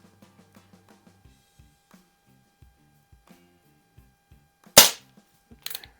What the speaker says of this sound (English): Again, shooting high.